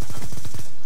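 Rapid automatic gunfire from the shooter game Call of Duty: Black Ops 2, a loud, tight string of about ten evenly spaced shots fired in one short burst with no talking.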